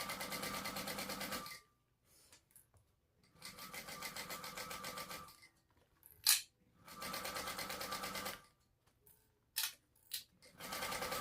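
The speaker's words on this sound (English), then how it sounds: "we're just going to top stitch. Make sure you back stitch at the beginning and the end" A sewing machine top-stitches a crossbody bag in several brisk, rapid runs, each stopping abruptly into near silence, with faint handling clicks between passes.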